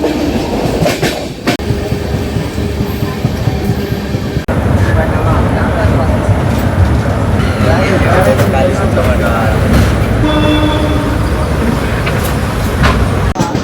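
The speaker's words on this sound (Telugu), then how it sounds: "చూడండి ప్యారల్గా గూడ్స్ ట్రైన్ వస్తుంది చూడండి." Goods train passing on the parallel track beside a moving express near Vijayawada, a loud continuous rolling roar with clickety-clack of wagons and bursts of squeal, heard from inside the carriage.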